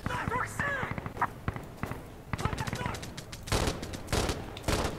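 Rapid bursts of gunfire crack through a tactical shooter match, sharp and close in irregular volleys mixed with footsteps, while players talk over the shooting.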